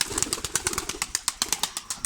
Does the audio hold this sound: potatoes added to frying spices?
no